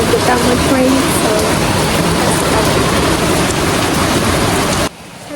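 Steady, heavy rain falls close by as a dense, continuous hiss that fills the clip and then cuts off abruptly near the end.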